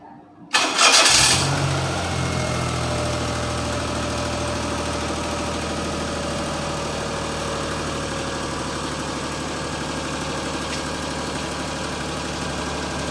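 A Perodua Kelisa engine cranks and catches with a sharp burst, then settles into a steady, loud idle with a low rumble that runs on unchanged for over ten seconds.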